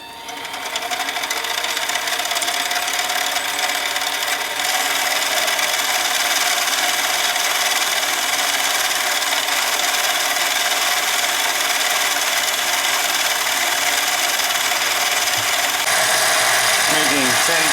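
A DIY diamond surfacing machine makes repeated cuts on auto feed, giving a loud, steady, close grinding hiss that continues almost unchanged throughout. A brief shift in tone comes near the end.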